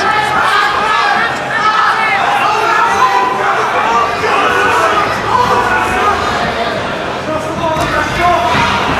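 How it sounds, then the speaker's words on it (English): A packed room at a caged MMA fight erupts into applause and cheering, a dense continuous wash of clapping and crowd noise held loud throughout with talk layered on top. "the whole room erupts with applause when he does"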